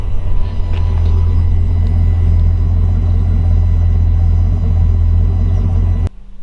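Idling LS1 V8 in a 1957 Ford Fairlane 500 hardtop resto-mod through a subtle exhaust, an even, deep, loping rumble held for about six seconds before it abruptly drops off.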